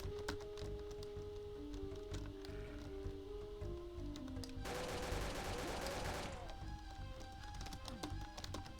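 Chaingunner enemies in the video game Ad Mortem open fire in a dense burst of rapid gunshots lasting over a second, set against game music and other in-game effects.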